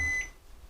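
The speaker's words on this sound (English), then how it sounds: "We're going to pop this in the microwave a little bit just to melt." A microwave oven beeps after melting cheese, two short high electronic tones about half a second apart, fairly clear against a quiet kitchen background.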